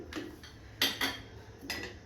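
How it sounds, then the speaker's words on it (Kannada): A metal cooking pot set down on a stove in a home kitchen for radish sambar, three short clanks of metal in a quiet room. "ಈಗ ನೋಡು ಪಾತ್ರೆ ಇಟ್ಕೊಂಡಿದ್ದೀನಿ"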